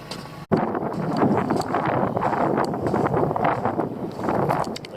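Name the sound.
wind blowing on a foggy sea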